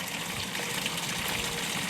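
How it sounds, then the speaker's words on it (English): A pond pump pushes water through a backyard pond filter, producing a constant, close gushing rush with bubbling churn and no pauses. "You can kind of hear it when you start hearing like the bubbles and stuff."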